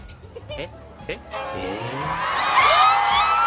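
Children shout and whoop, loud and rising, after a few brief sounds; the shouting grows more excited toward the end.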